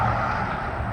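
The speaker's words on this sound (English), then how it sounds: "In case if you're wondering about all that traffic noise, that's it right over there." Steady road traffic from a nearby highway makes a constant broadband rumble and hiss with no distinct vehicles standing out, heard alone.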